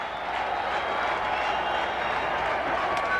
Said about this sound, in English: Boy, the crowd's starting to buzz, aren't they?